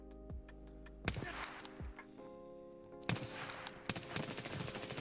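AS Val rifle fire in Escape from Tarkov: sharp, suppressed shots in short bursts at close range, with metallic clinks and mechanical ticks between volleys.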